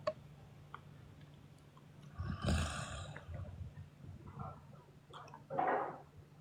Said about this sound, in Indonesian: Ngorok dia weh